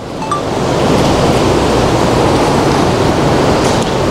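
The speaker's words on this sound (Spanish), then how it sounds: "Grabando un océano que está ahí atrás." Ocean surf washes steadily behind a seaside house, a loud broadband roar of breaking waves held close to the microphone with no voices over it.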